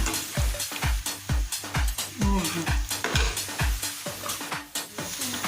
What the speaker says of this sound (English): Now I fry some onions in a pan